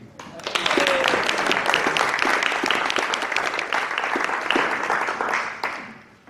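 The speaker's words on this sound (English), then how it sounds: "we start with a quick round of applause for our Mr. and Mrs. P." Wedding guests break into warm, full applause for the bride and groom, a dense wash of many hands clapping that swells quickly and holds for several seconds before tapering off.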